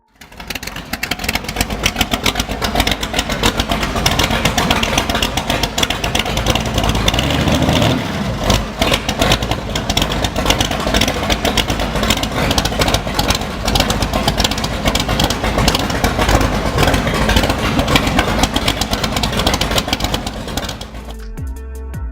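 A Boss Hoss V8 cruiser motorcycle runs steadily close by, a loud, continuous rumbling engine that holds a dense, even roar for about twenty seconds before cutting off, with no speech.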